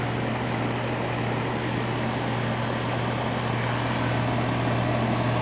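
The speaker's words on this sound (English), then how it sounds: "Got the compressor coming on." An air conditioning compressor kicking on and running in a unit with a no-cooling problem, giving a loud, steady, close hum and whoosh that stays constant throughout.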